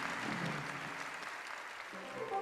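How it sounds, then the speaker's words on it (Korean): Enthusiastic applause fills a hall at a Korea–Vietnam friendship performance, a steady, fairly distant wash of clapping with no talk over it. "장내에서는 열렬한 박수가 터져올랐습니다."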